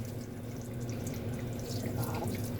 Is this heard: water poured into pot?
yes